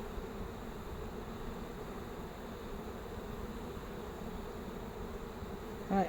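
Dense, steady buzzing of many bees around hive frames close by, a continuous drone with no speech, and a brief soft bump right at the end.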